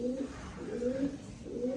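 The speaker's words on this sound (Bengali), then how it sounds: "মার্শাল্লাহ একটা টপ ক্লাস কোয়ালিটির জ্যাকোবিন আছে মেলটা অ্যালবন এবং ফিমেলটা ব্ল্যাক" Jacobin pigeons, an albino male and a black female with super hoods, coo softly in repeated low rolling phrases, close but quiet and without talk.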